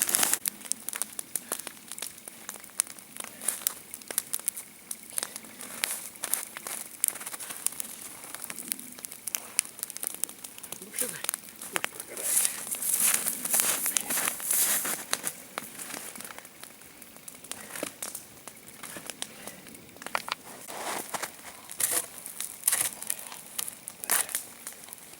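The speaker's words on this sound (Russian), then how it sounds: "Как мы говорим, подкормить костер." Sticks and small wood fed onto a campfire in the winter taiga, giving continuous close crackling, snapping and crinkling pops throughout, with no voices.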